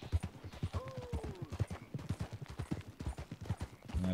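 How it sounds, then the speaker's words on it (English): Horse hooves clip-clop in steady rhythmic steps in Red Dead Redemption 2, an old, broken-down cheap horse plodding along, moderately close, with a faint rising whistle-like tone partway through. "Let me catch up with my old broken down horse that I bought for nothing."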